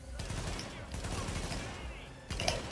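Automatic gunfire in The Division is aimed through fences underground, a steady rattling burst that stops briefly and then picks up again with a sharper volley near the end.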